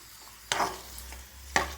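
Raisins fry in a pan with a low, quiet sizzle, broken by two sharp stirring scrapes or clinks about a second apart, close by.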